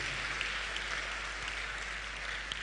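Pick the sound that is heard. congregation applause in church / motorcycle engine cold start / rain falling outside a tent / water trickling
congregation applause in church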